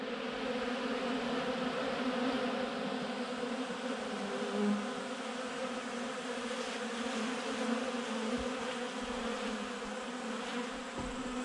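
Honeybees swarm around an opened hive during a robbing frenzy, making a dense, steady buzzing drone with individual bees zipping close by.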